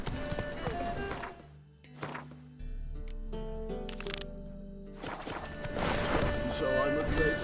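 Hoofbeats of a galloping horse in the video game The Witcher 3 come in at the start, drop away for a quieter stretch of other game sounds, then return strongly near the end.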